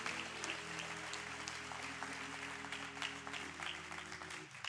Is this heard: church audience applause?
yes